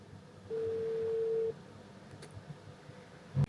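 A telephone tone on a dialed number that goes unanswered: one steady electronic beep lasting about a second, quiet against a faint background hum, followed by a short click near the end.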